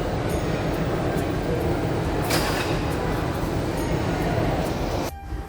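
A departing train rumbles steadily out of a railway station with a dense, continuous rolling noise and occasional metallic clanks, ending in a brief drop in sound.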